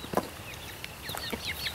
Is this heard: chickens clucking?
yes